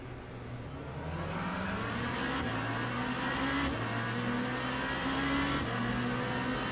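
A BMW race car launching from the start in the Le Mans Ultimate racing game, its engine droning loud and steady while the pitch climbs and drops back with each quick upshift.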